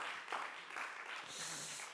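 Audience applause for Pascal Joguet at a talk, a steady wash of clapping held for about two seconds, fairly even and moderately loud throughout.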